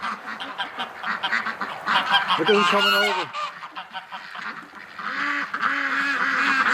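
A flock of ducks and geese on a winter outing honks and quacks close by, with a loud drawn-out honk in the middle and repeated nasal calls near the end, while a person speaks briefly over them.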